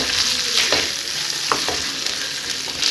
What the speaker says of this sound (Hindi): यहाँ पे मीडियम आंच पे इसे हल्का सा हम फ्राई करेंगे सभी मसालों को।